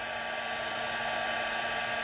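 Heat tool melting embossing powder on handmade charms, a steady close blowing whir with an even tone and no break.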